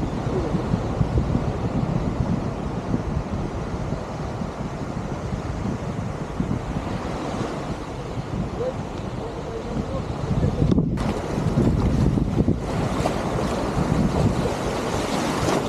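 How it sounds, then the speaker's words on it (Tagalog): Strong ocean waves crash and roar continuously, with heavy wind buffeting the microphone and a louder surge near the end. "malakas yung alon."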